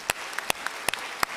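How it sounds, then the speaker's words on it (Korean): Church congregation clapping in encouragement for young members during a Korean evening service, heard as a handful of sharp, separate claps spaced irregularly over a quiet background. "따뜻한 응원과 격려의 박수를 여러분이 좀 해주시면 좋겠습니다."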